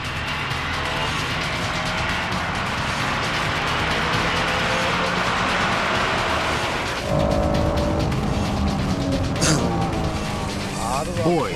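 Honda NSX-R race car overtaking a GTO through a slippery hairpin, its engine note droning steadily with tyre noise, rising and shifting in pitch near the end as the cars pass close by, with commentary talking over it.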